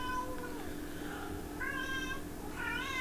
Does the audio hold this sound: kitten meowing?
yes